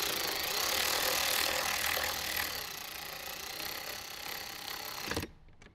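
A power tool whirs steadily and loudly as it drives screws into the dash panel of a Jeep Wrangler JK, then cuts off abruptly near the end.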